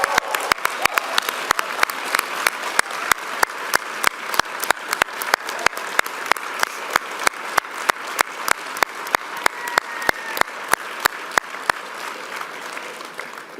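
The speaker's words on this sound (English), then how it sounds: "Can we please have a round of applause for them?" A large crowd at the 2023 Ontario Liberal leadership election gives sustained applause to the campaign teams, with dense, even clapping and sharp individual claps over it, fading near the end.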